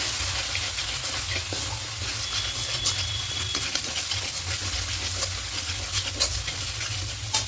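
Ground cumin, turmeric and chilli powder with a splash of water sizzle and hiss steadily in a kadai for mushroom curry, with continuous stirring and scraping close up, no voices.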